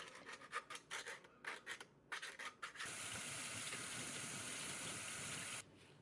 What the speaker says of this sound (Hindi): अभी मैं एक पिलर ले रही हूँ और उसके हेल्प से जो छन्नी के साइड पे जो ब्लैक चीज़ें आप देख रहे हो उसको मैं क्लीन करने की ट्राई कर रही हूँ